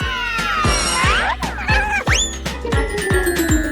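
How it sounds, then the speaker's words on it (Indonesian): A small kitten mews several times, its high, rising cries standing out over a steady rhythmic beat of background music. "Siapa yang membawamu kemari, kucing kecil?"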